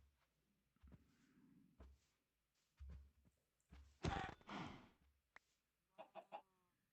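Minecraft chickens cluck in short, scattered bursts that are fairly quiet, with a brighter, louder cluck in the middle and no talking over them.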